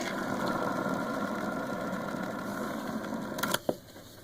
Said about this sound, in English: Does it table spin? It sure does.